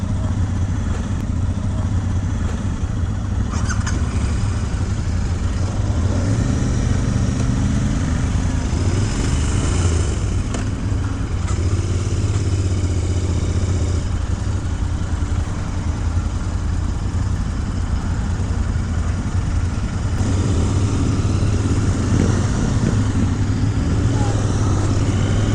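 A 2023 Royal Enfield Continental GT 650 twin cafe racer, 47 horsepower, ridden at steady speed with a continuous loud engine drone and rumble rising and falling slightly, wind noise over it, and a voice talking at times.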